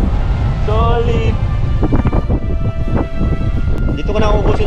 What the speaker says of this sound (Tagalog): taas ng hangin dito mga par sa hanggat pa